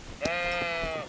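A ram bleats once in Kingdom Come Deliverance, one sustained, wavering, nasal cry of about a second that is loud and close, with faint game thumps around it.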